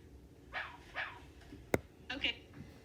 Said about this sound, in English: do a double bark in a row after she does all her stretches